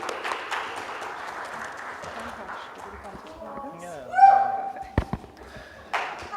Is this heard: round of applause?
yes